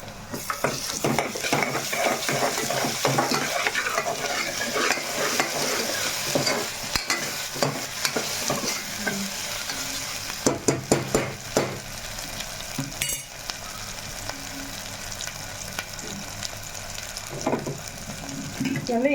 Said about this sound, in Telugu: ఉల్లిపాయ అయితే మనకి బాగా వేగింది అల్లం వెల్లుల్లి పేస్ట్ అయితే వేసుకుంటున్నాను